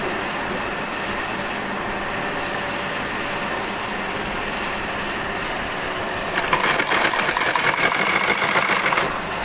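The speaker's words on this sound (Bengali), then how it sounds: "এরকমভাবে আগে সেলাই দিয়ে নিতে হবে" A sewing machine stitches the side seam of fabric scraps for children's pants, a steady mechanical whir that grows louder and denser near the end.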